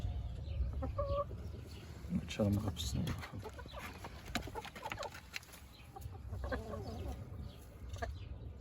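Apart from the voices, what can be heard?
Indian game chickens clucking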